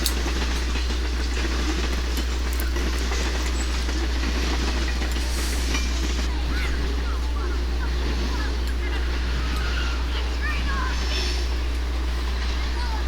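An eastbound freight train rolls past on the rails near Porter toward Chesterton, with a steady loud rumble, a deep low drone and wheel clatter throughout, and a voice speaking over it.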